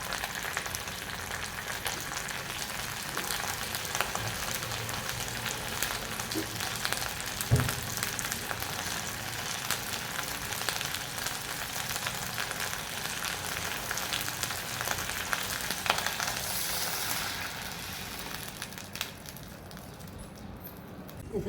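Green beans frying in a steel kadai without oil, a steady close crackle and sizzle that runs on with faint stirring scrapes and a brief clatter partway through, easing slightly near the end.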